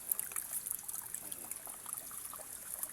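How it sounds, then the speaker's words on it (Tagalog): Clear spring water trickling from a hole in a hillside, a soft continuous dribbling and splashing with faint hiss, steady and close, with no one talking over it. "Yan po yung tubig niya. Nanggagaling doon sa taas."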